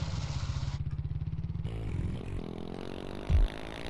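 Motorcycle engine in GTA San Andreas, a loud close pulsing idle that chugs rhythmically, cuts off, then revs with scraping and clattering and a brief sharp thump near the end.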